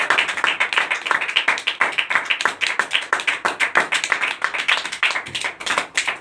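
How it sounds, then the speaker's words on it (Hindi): A church congregation at a prayer meeting in Koderma claps hands together in thanks to God, a dense, steady run of sharp claps filling the whole stretch, loud and close, with no talking over it. "हम धन्यवाद देंगे प्रभु को ताली मार के।"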